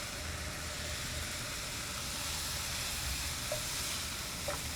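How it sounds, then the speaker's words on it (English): Mushrooms and onions sizzle steadily in a pan on the stove, a continuous soft frying hiss with a faint low hum beneath and no voices. "we're going to turn it down low to simmer the mushrooms and the onions"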